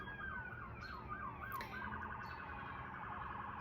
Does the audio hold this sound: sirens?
yes